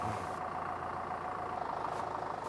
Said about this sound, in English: All of the power of the engine has gone straight into that wheel, and it's just simply sat there spinning